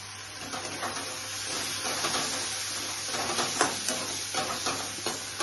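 Paneer curry frying in a pan as soy sauce goes in and the mix is stirred: a steady sizzle with repeated scraping and clacking strokes from the utensil, close by.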